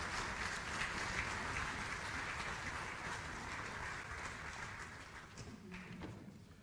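An audience applauds after a speech, a steady, fairly quiet wash of clapping with some low thumping underneath that thins out toward the end.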